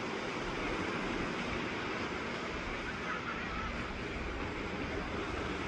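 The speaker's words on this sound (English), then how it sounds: "The waves aren't very big today." Small ocean waves at a beach, a steady soft wash of surf with faint wind, continuous and fairly quiet throughout.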